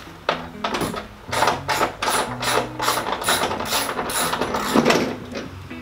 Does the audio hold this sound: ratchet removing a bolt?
yes